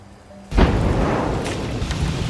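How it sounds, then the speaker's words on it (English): A petroleum products tank in Oklahoma explodes, a sudden loud boom after a quiet moment that rolls on into a sustained roaring rumble. "this massive explosion literally blew the lid off a huge petroleum products tank in Oklahoma, sent it flying"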